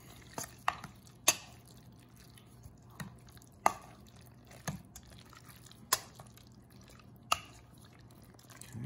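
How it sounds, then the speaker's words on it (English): A spoon stirs a thick queso fundido cheese mixture in a bowl, making sparse, quiet taps and soft squelches spaced a second or so apart in a hushed kitchen. "We're just gonna go ahead and stir this up."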